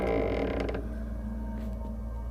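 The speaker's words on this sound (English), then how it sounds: "the door opened on its own" A door creaks open slowly by itself in a haunted setting, a drawn-out grinding creak that is loud and close at first, then fades into a low, lingering mechanical groan.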